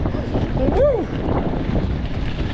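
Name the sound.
cold wind at Oakland airport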